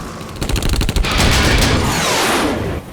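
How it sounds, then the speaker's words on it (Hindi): Rapid bursts of gunfire in an action movie crackle loudly, a quick volley of shots followed by a sustained roar of continuous firing. "पीछे गोलियां चल रही हैं। जगह बदलो।"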